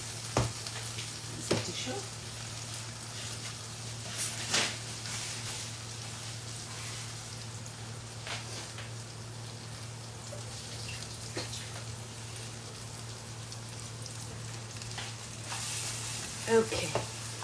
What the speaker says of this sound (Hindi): तो यहाँ इसे अब हमें पकाना है घी में